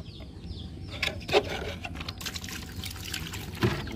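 Water being poured out of a container holding aquarium fish beside a water lily pond, a continuous trickling splash with a few louder gushes, close by and without talk.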